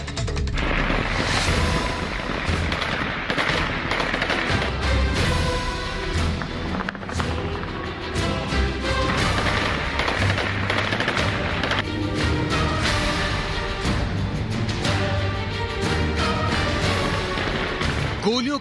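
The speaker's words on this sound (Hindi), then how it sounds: "गोलियों की तड़तड़ाहट" Sustained, dense rattle of celebratory gunfire at midnight in Afghanistan, rapid overlapping automatic bursts and single shots crackling without pause and loud throughout.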